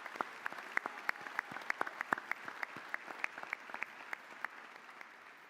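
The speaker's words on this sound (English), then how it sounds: "Let's take a moment to recognize these incredible role models who show us what it means to love what you do with a round of applause." An audience at a high school graduation ceremony claps steadily in a hall, a dense patter of applause with sharp individual claps standing out nearby, carrying on without a break.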